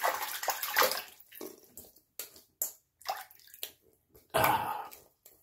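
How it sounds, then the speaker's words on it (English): Water splashing and running in a sink while a face is rinsed during a shave, close intermittent splashes and trickles with short gaps between scoops. "I'm going to rinse my face off."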